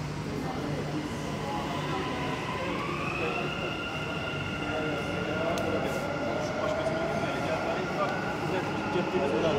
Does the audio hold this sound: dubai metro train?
yes